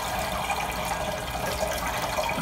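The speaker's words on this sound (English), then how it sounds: "so I'm pouring, and it's going right through the cheesecloth, right into the pot" Whey and curds are poured slowly through cheesecloth into a pot, making a continuous close splashing, trickling wash of liquid with no talk.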